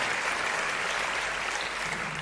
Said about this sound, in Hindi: आए पुरजोर तालियां बजाएं यीशु के।